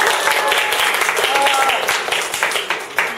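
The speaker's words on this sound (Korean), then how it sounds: "다들 큰 박수로 맞이해 주시기 바랍니다." A school presentation audience applauds to welcome three students onto the stage, steady, fairly loud clapping that fills the room throughout with a murmur of voices underneath.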